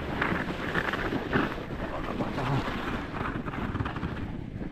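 Wind buffets the microphone while kite skiing on a frozen sea in Kainuu, with an 18-square-metre kite: a steady, rough, broadband rushing with gusty swells, close and continuous.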